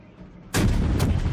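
A battleship's naval guns fire in World of Warships, a sudden heavy boom after a quiet lead-in, followed by a second blast moments later and a rumbling tail.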